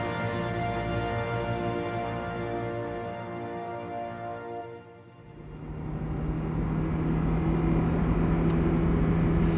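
Mazda MX-5 Miata sports cars pass by, a loud engine hum that swells, dips briefly as one passes, then builds again into a steady rising drone with no talking.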